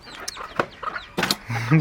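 A rooster crows close by, its call mixed with other clucking and a person's voice talking over it.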